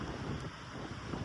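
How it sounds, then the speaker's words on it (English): Strong wind on a Montana mountainside during an elk and deer hunt buffets the microphone in a loud, continuous low rumble with no gaps. "It is awfully windy, maybe pushing about 10 to 15"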